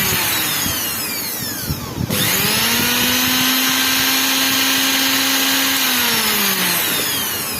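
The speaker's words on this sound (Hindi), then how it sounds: "वही मोटर जो भी जाम थी ये देखिए फ्री हो चुकी है।" A mixer grinder motor, freed after being jammed, whirs at high speed, steady and loud, with a short dip and restart partway through before spinning freely again.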